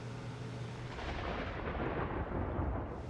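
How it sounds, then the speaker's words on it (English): Thunder at an insane asylum in the video game Murdered: Soul Suspect: a steady, low rolling rumble, fairly faint and unbroken, with no voices. "it's thundering, lightning"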